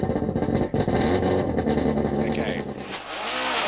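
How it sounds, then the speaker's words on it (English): A rally car engine revs loudly and close, surging and dipping with shifts, a short spoken word briefly over it before the engine note settles into a steadier drone. "the car is noisy and uncomfortable to drive"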